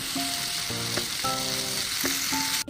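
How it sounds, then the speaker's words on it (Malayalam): Banana pieces fry in ghee with a close, steady sizzle under faint melodic background tones, ending in a short clatter. "ഇനി നമുക്ക് ഈ പഴം ഒന്ന് നെയ്യിൽ വാട്ടിയിട്ട് ഫ്രൈ ചെയ്യാം"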